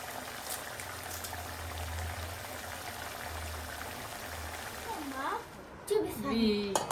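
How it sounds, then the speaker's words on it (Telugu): An egg and taro curry (pulusu) simmers on the stove as it thickens and the oil rises, giving a steady, soft bubbling and popping. A brief vocal sound breaks in near the end. "పులుసు కొంచెం చిక్కపడి ఆయిల్ పైకి వచ్చేంత వరకు మరిగి చేసుకోవాలన్నమాట"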